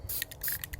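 Short bursts of rust reformer spray hit a BMW 650i E63 rear differential, several quick hissing puffs in a rapid uneven rhythm, close and fairly faint.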